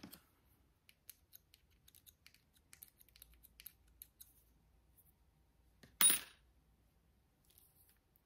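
Scissors snip through paper while cutting out paper flowers: a single short, crisp cut sounds close by against quiet surroundings, with faint handling noises before and after.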